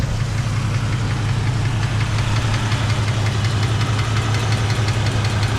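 A 1991 Mercedes-Benz 420SEL V8 idling steadily with a fast, even ticking running through it, loud and continuous from start to finish.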